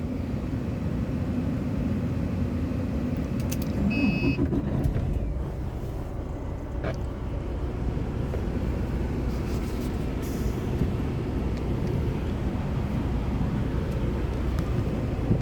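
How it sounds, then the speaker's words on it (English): A semi truck engine idles inside the cab with a steady, close, low rumble that continues for the whole stretch. A few faint higher clicks and scrapes sit on top of the drone. "I don't really feel like turning the engine on"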